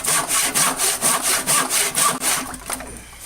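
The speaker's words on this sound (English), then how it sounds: "So let me finish this up with a handsaw now" A handsaw cuts wood on a Craftsman workbench restoration, with about eight rhythmic back-and-forth rasping strokes, close and loud, that then slow and fade as the cut finishes.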